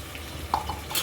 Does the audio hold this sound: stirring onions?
yes